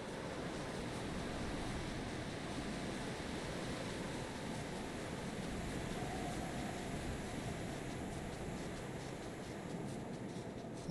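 A waterfall in the video game Final Fantasy XIV: A Realm Reborn pours as a steady, broad rushing roar. It stays constant and moderately loud throughout, with no voices.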